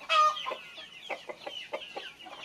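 Free-range chickens cluck repeatedly at feeding time, a busy flock of short, overlapping calls close by, with a louder burst at the start and no talking.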